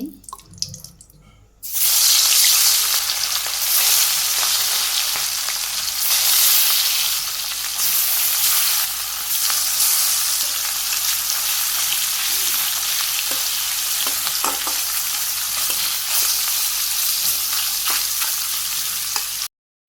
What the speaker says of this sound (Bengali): মাছ ভাজি তো চলে দিছি